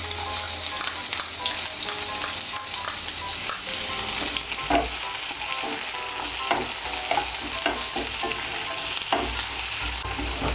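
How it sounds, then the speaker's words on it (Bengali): Chopped onion frying in hot oil for a Bengali mixed dal tarka, with a steady loud sizzle throughout and frequent scraping stirs of a spatula against the pan, no voices. "পেঁয়াজটাকে হালকা একটু ভেজে নেব"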